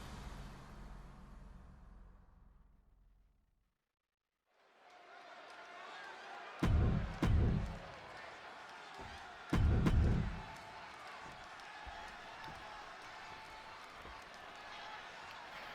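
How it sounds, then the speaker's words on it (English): A large arena crowd in the WWE 2K26 wrestling video game roars steadily with broad, continuous noise, punctuated by a few loud thumps and bursts, after a brief quiet moment near the start. "just listen to this crowd here in Chicago"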